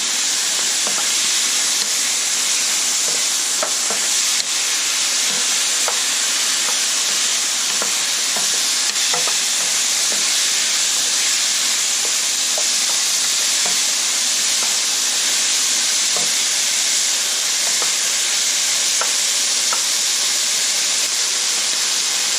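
Pork riblets sizzle steadily in a hot wok with sugar, hoisin sauce and dark soy, a continuous bright frying hiss with scattered spatters and faint stirring clicks, close and loud with no talking.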